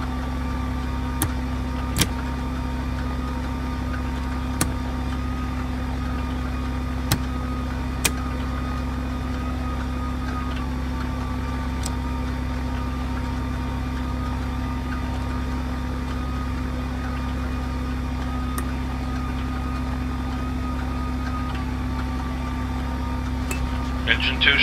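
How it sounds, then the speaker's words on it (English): A DC-3 engine number 2 runs steadily in the P3Dv4.1 flight simulator, a constant low droning hum with faint periodic clicks, close and even throughout. "Engine 2 starting up."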